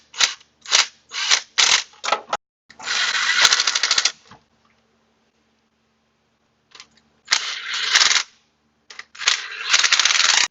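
Bolts on a turbo exhaust manifold of an NA Miata being snugged with a power tool: several short rattling bursts, a longer steady run, a pause, then more bursts, loud and close with no talk.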